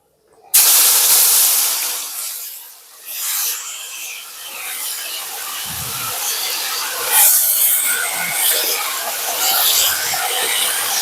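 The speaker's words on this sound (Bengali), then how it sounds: "এবার দিয়ে দেবে কেটে রাখা টমেটোটা।" Chopped tomatoes drop into hot oil in a wok already frying bay leaves, dried red chillies and black mustard seeds for Bengali methi chicken, bursting into a loud hissing sizzle that settles into a steady crackle.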